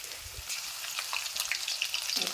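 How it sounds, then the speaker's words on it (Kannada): Ginger garlic paste fries in a hot pan while drumstick fry is cooked Kalaburagi hotel style, giving a loud, continuous close-up sizzle and crackle with no talking. "ಒಂದು ಸ್ವಲ್ಪ ಶುಂಠಿ ಬೆಳ್ಳುಳ್ಳಿ ಪೇಸ್ಟ್ ಹಾಕೋತೀನಿ ರೀ"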